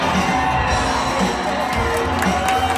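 A crowd of children at a Chuck E. Cheese's birthday party cheers and whoops in a loud, continuous burst that fills the short clip.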